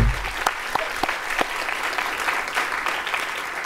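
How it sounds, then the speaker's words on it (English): Conference audience at an arts summit giving a round of applause after a morning panel session, a steady crackling wash of clapping with a few sharper, louder claps standing out near the front. "I think we need another thunderous round of applause for all of the morning panelists and performers"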